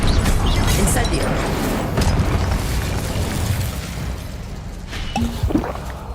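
Incendio fire spell cast in the video game Hogwarts Legacy: a loud, dense burst of booming, crackling blasts in the opening seconds that eases off, then a brief fresh flare of impacts near the end.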